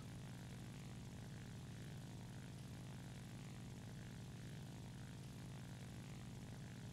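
A propeller aircraft drones through the air in a video game, its steady engine hum constant and fairly faint throughout, with no speech.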